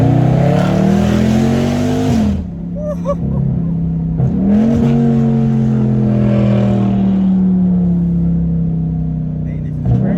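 A 2021 Dodge Charger Widebody Scat Pack V8 revs loudly and close up, its deep engine note rising and dropping through a few revs and then settling into a steady growl, with people talking nearby.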